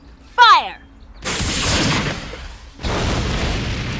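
Bursts of gunfire from characters shooting in the video game Brutal Legend, two loud sustained volleys following a short burst of voice-like sound.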